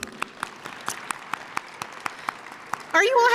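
Audience at a City of College Park Black History program clapping for the mayor in a steady, rhythmic beat of sharp claps, then a voice starts speaking right at the end.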